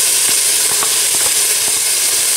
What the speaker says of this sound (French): Je fais colorer mes morceaux de viande dans ce mélange